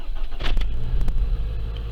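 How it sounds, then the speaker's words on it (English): A car engine cranks and catches in snowy blizzard cold, firing up quickly into a steady low idle rumble, close and fairly loud, with no talking. "Still started right up."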